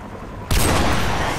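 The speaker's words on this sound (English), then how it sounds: "Take out that helicopter" Gunfire from Call of Duty 4: Modern Warfare Remastered erupts suddenly as one loud, dense burst that carries on after a quieter ambient lead-in.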